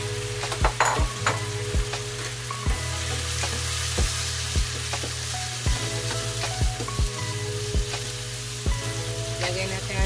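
String beans hit a pan of frying pork, setting off a steady loud sizzle with repeated scraping stirs and clanks of a utensil against the pan, close up and without talk.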